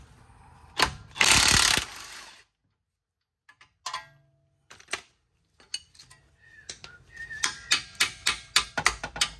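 A ratchet fitted with a 24 mm socket works a front strut bolt loose on a 2011 Lincoln MKX, with a loud whirring burst, a pause, then rapid clicking and sharp metallic clinks nearby, no voices.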